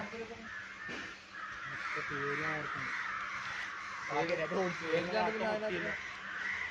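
A crow caws several times in short, harsh bursts at a moderate distance, over a quiet background hiss.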